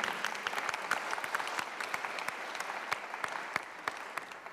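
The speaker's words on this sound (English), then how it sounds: "Round of applause, if you will." Audience applause at a UN Environment Assembly panel event, a steady patter of many hands clapping with distinct sharp claps scattered throughout, moderately quiet and continuous without voices.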